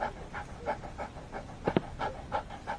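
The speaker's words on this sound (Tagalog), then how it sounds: "Bro, pasaway kang aso ka." A dog pants close to the microphone in quick, rhythmic breaths, about three per second, with a brief snort or whine partway through and no talking.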